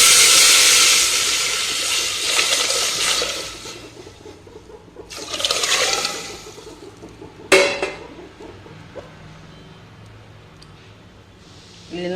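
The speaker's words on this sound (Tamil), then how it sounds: "இப்போ இந்த புளி தண்ணியை ஊற்றிக்குவோம்." Tamarind water pours into a hot pan of kollu (horse gram) rasam with curry leaves and dried chillies, giving a loud sizzling hiss at the start, then a bubbling, clattering burst and fading simmer.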